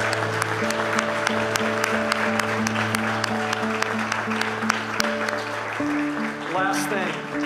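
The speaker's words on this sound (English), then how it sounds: "Would you give a clap offering to the Lord this morning?" A church congregation claps in a clap offering during a Sunday morning service, a steady patter of many hands running over sustained music with a voice heard at points.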